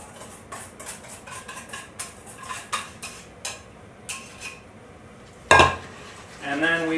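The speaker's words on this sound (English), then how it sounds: "And then we whisk." Custard for crema bianca is whisked by hand in a bowl, giving a run of quick metallic taps and scrapes against the sides, with a louder clank near the end.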